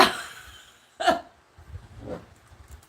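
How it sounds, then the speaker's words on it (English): A couple of short, throaty burps after drinking tea, close to the mic, separated by brief pauses, with quiet breathing between them. "You see how the tea made me burp?"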